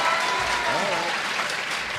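Game show studio audience applauding steadily throughout, a dense wash of clapping from a full crowd, with a voice speaking faintly beneath it.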